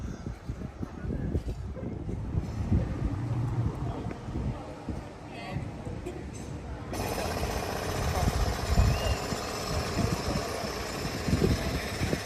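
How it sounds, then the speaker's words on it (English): Loud, continuous rattling of a pneumatic drill digging a hole nearby, with street noise and traffic around it, in a small English town. "somebody digging a hole or using a pneumatic drill very loudly"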